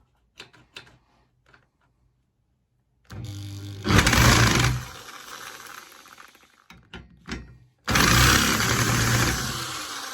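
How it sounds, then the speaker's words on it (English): A small two-stroke engine, being made to run backwards, sputters into life twice, each time revving loudly for a second or so before cutting out, with mechanical clicks and knocks between attempts. "Do you think we've now made this engine run backwards?"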